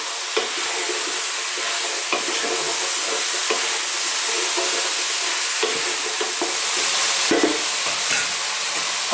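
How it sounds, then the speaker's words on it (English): Chicken and vegetables for an Italian-style stew frying in a pan while being stirred constantly, a continuous close sizzle and hiss with occasional scrapes and knocks of the spoon against the pan. "We're going to cook this for about another 5 to 6 minutes, stirring all the time."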